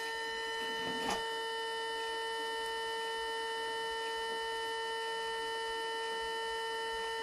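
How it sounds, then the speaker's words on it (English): A Mercedes C36 AMG throttle body, a non-ASR unit, hums steadily on a bench test. The buzzing drone holds an even pitch throughout with a rich stack of tones, and there is one brief click near the start. "so that's the sound of healthy throttle body"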